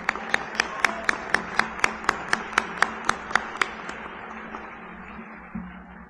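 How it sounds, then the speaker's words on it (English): Applause at a college spring commencement ceremony comes through as a steady series of crisp, evenly spaced claps with a reverberant hall tone, fading out over a few seconds. "Let's give them all a round of applause."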